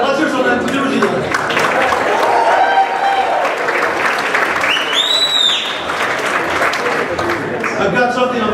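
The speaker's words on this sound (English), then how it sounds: "Now how about cheering about that? Let's hear some enthusiasm." Loud, sustained applause and cheering from a crowd at a Republican event in Winnebago County, rising and holding steady, with a sharp whistle cutting through partway and voices mixed in.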